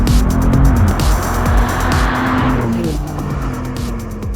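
A BMW M2 accelerates hard on a cold, bumpy, tight road, its engine roaring loud and close while the rear tires squeal and skid continuously, with gear-change dips in pitch.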